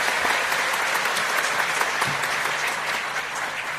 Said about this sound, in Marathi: आपण खूप जोरदार टाळ्या वाजवल्या पाहिजे.